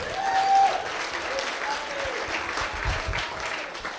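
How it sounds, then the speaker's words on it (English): Wedding reception guests clap steadily for the groom for several seconds, a dense, moderately loud patter of many hands with a brief whistle near the start. "why don't we get a round of applause for the groom here."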